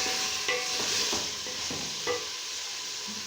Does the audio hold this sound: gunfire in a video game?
no